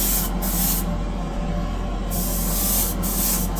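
An airbrush sprays base coat onto Greek-style clay vases in a continuous close hiss with slight pulsing, no talking over it.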